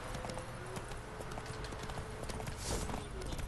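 Horse hooves clip-clop steadily through the fantasy game Witcher 3: Wild Hunt in Novigrad, a continuous mid-loud trot mixed with game ambience and a brief whoosh near the end.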